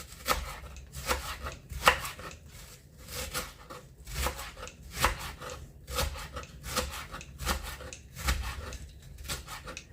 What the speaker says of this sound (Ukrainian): І просто накришуємо її так, як накришуємо на солянку.